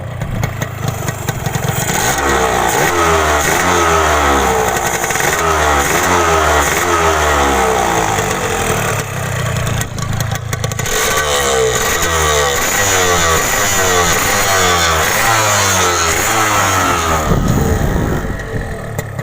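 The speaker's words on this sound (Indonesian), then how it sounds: "jadi sekarang kita coba tes motornya Mas Febri yang akan dijual beliau ini" The two-stroke engine of a Yamaha RX King SE motorcycle revs loudly and close up on a test ride, rising and falling in a rough, raspy rhythm with a clattery edge throughout.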